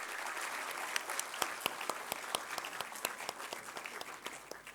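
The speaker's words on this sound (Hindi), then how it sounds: "let's have a huge round of applause for him" An audience at the Gallant Warriors 2023 ceremony applauds as Ram Nath Kovind is welcomed, with a steady wash of clapping and sharp individual claps standing out near the microphone.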